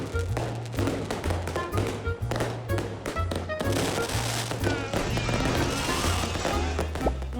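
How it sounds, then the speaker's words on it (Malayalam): Firecrackers burst at a Vishu festival celebration held at an office, a rapid string of sharp cracks and pops going off one after another over a steady low background. "ഇനി കുറച്ച് വെറൈറ്റി പടക്കം പൊട്ടിയിട്ടാണ് കാണാൻ പോകുന്നത്"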